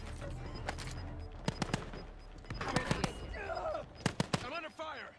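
Gunfire in the video game Vertical crackles in sharp scattered bursts and short volleys, mixed with game chatter and other effects, while voices talk over the shooting.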